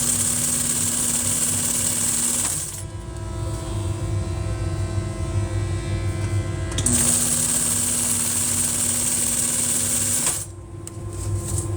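A sewing machine fitted with a welting foot stitches cord-filled welt for chair upholstery, a steady loud whirring run that stops briefly midway, then restarts and cuts off near the end.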